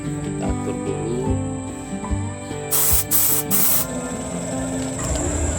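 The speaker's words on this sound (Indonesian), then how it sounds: "Di sini kita semprot secara perlahan dan tipis saja, karena kita akan pakai dua lapisan ya" An airbrush spraying paint in thin, slow passes onto a metal fishing jig, a steady loud hiss with a few bursts of stronger spray partway through, over a constant background hum.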